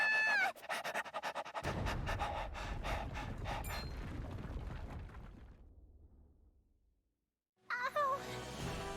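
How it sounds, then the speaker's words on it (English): A person voices a dog's panting in the Triangle Strategy video game, giving rapid breathy pants with gasps over rumbling game audio and music, then a pause before sounds resume. "Was that a dog being voiced by a person?"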